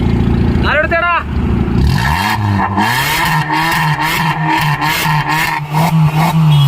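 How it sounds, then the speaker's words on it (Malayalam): A 2015 Maruti Swift with a valvetronic single-tip exhaust revving loud and close, engine note rising and holding with rough throaty pulses, while someone briefly speaks over it. "അപ്പോൾ നമ്മളെ എക്സോസ്റ്റ് ജസ്റ്റ് ഒന്ന് ഓണാക്കാൻ പോയാണ്."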